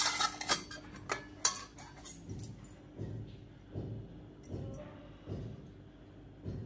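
Metal spoon clinks and scrapes against a bowl in a short run of distinct taps, then softer rhythmic scoops of finger millet flour, close and fairly quiet with no talking.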